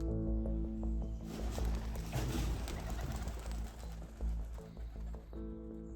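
Pigeons cooing aboard an abandoned, rusted military ship at a NATO facility, a dense flock's soft continuous coos echoing close by.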